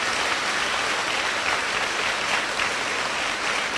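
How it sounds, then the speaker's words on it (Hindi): A church congregation claps loudly in thanks during a Hindi-language Christian service, producing a continuous, even roar of many hands that fills the room without pause. "जोर से तालियां बजा के प्रभु धन्यवाद दीजिए"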